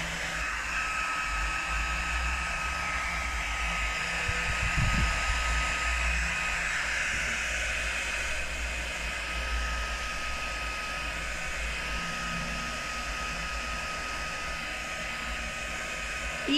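A hair dryer blows paint dry on a stencilled frame, a steady close-up roar of air and motor that runs unbroken and alone throughout.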